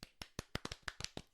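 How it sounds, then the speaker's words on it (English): About nine sharp hand claps in an uneven rhythm, close and distinct with short gaps, and no voices. "Clap, clap, clap."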